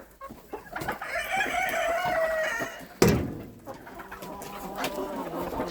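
Bantam chickens cluck repeatedly nearby, with a rooster-like call rising among them and a sharp knock partway through.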